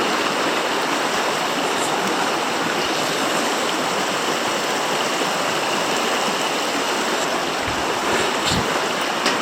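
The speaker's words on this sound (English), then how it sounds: "just have a quick look at the river" A river flows steadily close by on a mountain hike, a dense, continuous rushing of water with no breaks and no voices.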